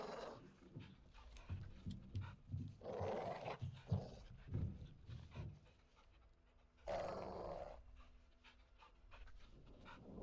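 A dog in Call of Duty: Modern Warfare 2 pants and growls in quiet, rough bursts, with a rhythmic run of huffs early on and two louder snarling surges, all fairly faint.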